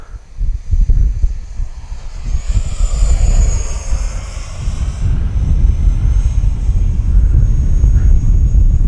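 A small Freewing L-15 model jet roars steadily overhead, its whining engine tone rising and falling as it passes, with wind rumble at the microphone.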